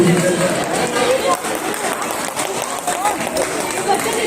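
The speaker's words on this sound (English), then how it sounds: "Please give them a good round of applause." A crowd claps for the musical chairs prize winners at an Independence Day celebration, a loud, dense, steady patter of hands with voices chattering throughout.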